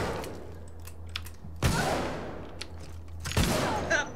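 Two sharp, loud gunshot blasts from a revolver in the survival horror game Alien Isolation ring out about two seconds apart over a low game ambience hum, with faint clicks between them.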